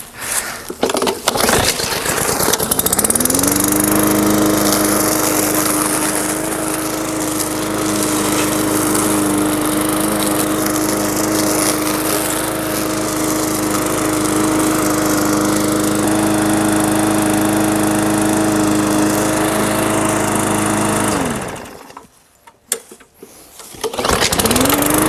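A small push lawn mower engine, freshly tuned up, catching and settling into a loud, steady close-up drone for about twenty seconds before cutting off, followed by a few knocks and clatters.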